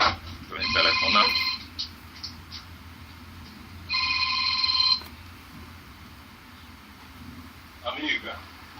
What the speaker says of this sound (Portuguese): quem é que está telefonando?